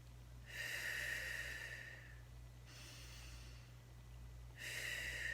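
Slow, deep breaths drawn into the belly during a breathwork exercise: three long airy inhales and exhales, each lasting a second or two, close and steady over a low background hum, with no talking.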